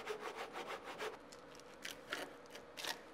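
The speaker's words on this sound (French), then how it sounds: "Tu le scies avec une scie fine." A fine saw cuts through a wooden parquet plank in quick back-and-forth strokes, a rapid rasping burst followed by a few slower, scattered strokes, close and quiet.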